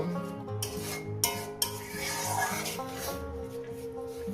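Spatula scraping and clattering against a pan as goat meat curry is sautéed with spices and a splash of spice-bowl rinse water, with a few sharp knocks over steady background music.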